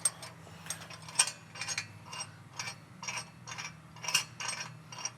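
Nut being turned onto the bolt of a Toyota 4Runner tire carrier, close rhythmic metallic ratcheting clicks in a steady series over a low background hum.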